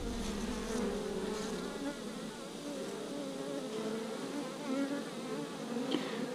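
Honey bees swarm around a hive queen, making a dense, continuous buzz close by with wavering pitch and no voices.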